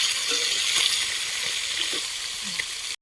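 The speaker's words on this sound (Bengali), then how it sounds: "মাছ এক পিঠ ভালোভাবে ভাজা হয়ে গিয়েছে, এবারে আরেক পিঠ ভাজা হবে, উল্টে দেবো।" Fish sizzling in hot oil in a pan while being turned over, a steady bright frying hiss with a few soft clinks and stirring sounds, fairly close, ending abruptly.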